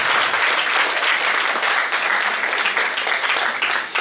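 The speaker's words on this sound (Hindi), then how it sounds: "एक बार जोरदार तालियों से सबका स्वागत कीजिए" Loud, continuous applause from an audience at an event for soldiers at QMTI in Pune, a dense crowd clapping that stays full and even for about four seconds and dips slightly at the close.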